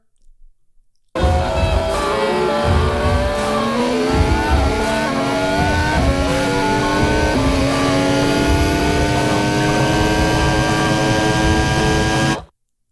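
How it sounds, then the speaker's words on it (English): Formula One car engine screaming loud and sustained in a movie trailer, rising through sharp upshifts with stepped pitch climbs, starting abruptly after a brief quiet lead-in and cutting off suddenly at the end. "you get that engine sound come in, which is one of the highlights of the F1 cars"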